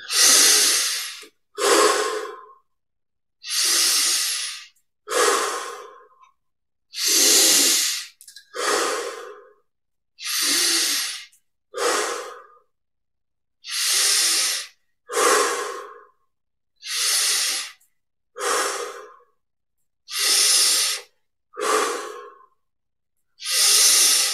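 Deep, slow breathing during a meditation exercise: a steady series of loud, close inhale-exhale pairs, each breath a long airy rush separated by short silences, with no talking.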